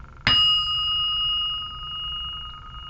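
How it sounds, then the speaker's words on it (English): A meditation bell is struck once, with a sharp onset and a clear, pure ringing tone that sustains and slowly fades in a quiet room. "As you hear the sound of the bell disappears"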